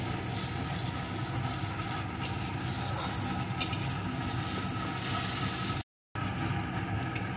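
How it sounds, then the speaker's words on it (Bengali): A paste of onion, garlic and tomato fries in a pan with a loud, continuous sizzle and faint stirring clicks, broken by a short silent gap near the end. "এখন বেশ কিছুক্ষণ ধরে এই মশলাটাকে আমি কষিয়ে নেব, যতক্ষণ না পেঁয়াজ, রসুন, টমেটোর কাঁচা গন্ধটা দূর হয়ে যায়"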